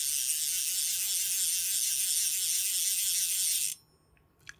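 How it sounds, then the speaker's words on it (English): Sage Arbor XL fly reel drag buzzes in a fast continuous ratcheting click as line spins off, loud and close, stopping abruptly near the end with a couple of faint clicks after. "this has got a nice sound on both the incoming and outgoing, and it is basically the same sound, and we'll let you hear that both directions"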